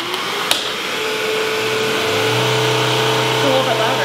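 A Bissell Crosswave wet-dry floor cleaner runs steadily nearby with a loud, even motor whir and a whining hum that shifts slightly in pitch partway through, after a small knock at the start.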